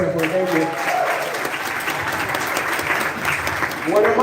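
A round of applause rises at a meet-up of African content creators, crowd clapping held steadily, with voices heard over it at the start and end.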